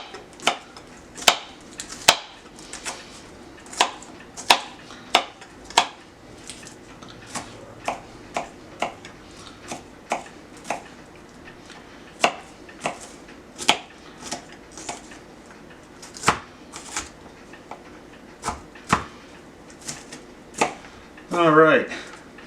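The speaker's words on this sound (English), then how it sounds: "for the few pieces that came off here, we'll just chop them up" A knife chops onion pieces on a cutting board for French onion soup, sharp single taps spaced irregularly, with a brief scraping flurry near the end.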